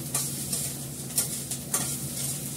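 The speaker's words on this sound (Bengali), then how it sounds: "আদা বাটা দিলাম, পেঁয়াজ বাটা দিলাম" Ginger and onion paste fries in a pan, a constant close sizzle broken by a few short scraping stirs over a faint low hum, without any voice.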